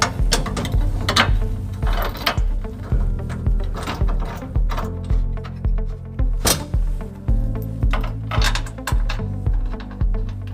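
Bolts are threaded back into a trailer hitch on a 2011 Toyota Tacoma, with repeated metallic ratcheting clicks and clanks in irregular bursts, close and fairly loud.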